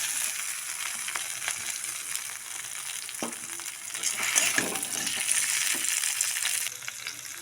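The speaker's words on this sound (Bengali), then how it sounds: "এর মধ্যে আমি এবার সবজিগুলো দিয়ে দেব।" Onions and vegetables fry in a pan with a steady, bright sizzle throughout, joined by a few soft clinks and scrapes of stirring. The sizzle grows a little louder toward the end, with no talk.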